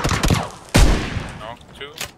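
Shotgun blasts in PlayerUnknown's Battlegrounds, two loud, close booming shots about half a second apart, each with a sharp attack and a rumbling tail, followed by fainter game noise and brief voice chatter.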